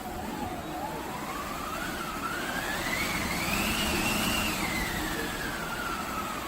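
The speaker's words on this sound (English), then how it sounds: "what I get to play often at the beginning is the wind machine" An orchestral wind machine is cranked in a percussion pit, producing a continuous rushing whoosh whose tone rises gradually and then falls back as the handle speeds up and slows.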